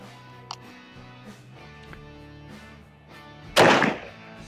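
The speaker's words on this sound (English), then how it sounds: "we'll shoot with the 44 mag and see if it stops that" One sharp, loud .44 Magnum shot into layers of ballistic nylon cracks out near the end after a quiet stretch of faint tonal background hum and a small tick.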